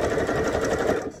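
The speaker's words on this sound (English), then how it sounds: "So go ahead and sew down your sleeve to your belt." A sewing machine runs steadily for just over a second, stitching a bell sleeve down to a belt on a Simplicity 8466 shirt, its fast even hum close and loud before easing off at the end.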